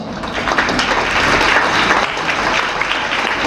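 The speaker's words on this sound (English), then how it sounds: "Give a huge round of applause." Loud, steady applause from an audience at a high school annual day celebration, many hands clapping together without a break.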